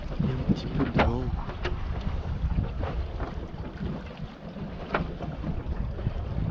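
Wind rushes steadily around a Mini 888 sailboat under way at sea, a constant close buffeting roar with faint creaks and a brief trace of a voice early on.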